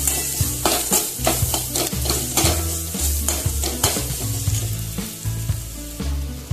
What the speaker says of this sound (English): Again saute for a while.